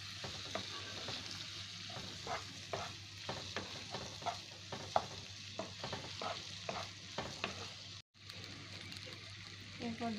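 A spoon stirring turmeric, cumin and chilli powder in a frying pan, repeated scraping clicks over a soft sizzle, fairly quiet and close, with a brief gap near the end.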